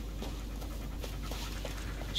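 A dog in the video game Blair Witch pants in soft, rapid breaths, a quiet, steady huffing rhythm heard alone without speech.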